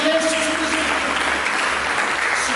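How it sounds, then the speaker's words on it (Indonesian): A church congregation claps together in steady, continuous applause that fills the hall for a few seconds. "Mari kita berikan tepuk tangan yang meriah bagi Yesus"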